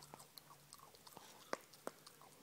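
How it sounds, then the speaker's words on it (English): A dog gnaws on a chew rubbed in leftover KFC juice, making faint, sporadic crunches and wet bites at close range in a quiet room, with a couple of sharper snaps standing out. "This is Louie with his chew that's been rubbed in KFC juice from the oven"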